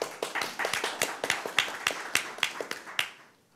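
A small audience at a UN conference on disability rights gives sparse applause: a dozen or so distinct, sharp claps in a loose rhythm that taper off and fade by the end.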